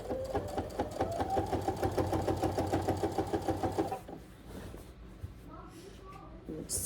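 A sewing machine runs in a rapid, steady mechanical stitching rhythm for about four seconds, then stops, leaving quieter handling sounds and faint clicks.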